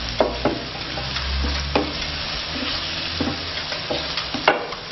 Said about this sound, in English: Stir this around for 3 to 5 seconds, taking care not to burn that garlic.